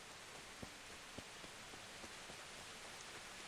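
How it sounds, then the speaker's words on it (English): Rain falls in the video game Kingdom Come: Deliverance, filling an abandoned village with a soft, steady hiss, with a few distinct drops pattering close by; it is quiet and no one talks. "But the one thing that really does strike you, apart from the rain, is how quiet it is in this abandoned village."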